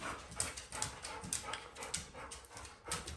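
Dogs whimpering and panting nearby during a battery replacement on a Sena SMH5 helmet headset, with short high whines recurring about every half second over steady breathy panting.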